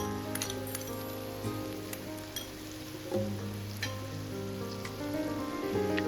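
Sauce hits a hot pan of diced eggplant and minced garlic in a Chinese-style stir-fry, giving a steady, close sizzle with a crackling, rain-like hiss and a few scattered pops, and nobody talking.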